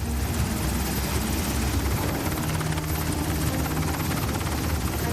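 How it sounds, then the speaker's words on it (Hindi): An MH-60R Seahawk helicopter's rotor thumps and engine roar fill the whole stretch, loud and steady, as if flying close by overhead. "MH-60R Seahawk helicopter."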